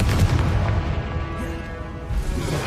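Confringo fire spell blasting in Hogwarts Legacy: a heavy, booming explosion with a deep rumbling body that surges at the start and again near the end, loud and close.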